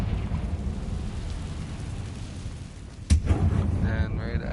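In Hogwarts Legacy a Confringo blasting spell goes off with one sudden sharp explosive crack, followed by a rumbling burst over continuous game ambience and background noise.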